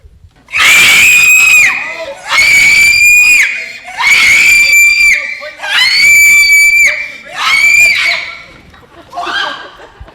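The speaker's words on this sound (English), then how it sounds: "Somebody had to stop her screaming." A group of people scream in five long, loud, shrill bursts, each lasting about a second or more with short gaps between, during a stage performance of Clue.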